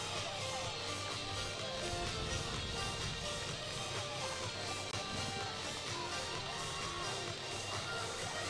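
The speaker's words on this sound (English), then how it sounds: "The crowd joining in their appreciation" Stadium crowd at the 2024 Bryan Clay track meet cheers and claps steadily for Parker Valby's collegiate-record 10,000 m run, a continuous, fairly distant wash of voices and applause with occasional whoops.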